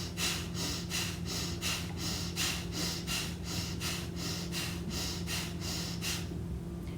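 Forceful cleansing exhalations in a breathing exercise, about a dozen sharp puffs through the nose in a quick, even rhythm, close and steady over a low hum.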